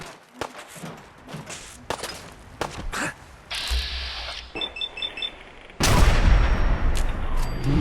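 Gunfire in the video game Fallout: several sharp, close shots spaced irregularly, then a louder sustained blast and rumble toward the end, with no talking.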